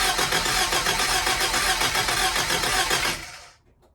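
A Mk3 Scamp's engine cranks and runs for about three seconds, a loud, dense mechanical roar close by, then cuts off abruptly and fades to quiet.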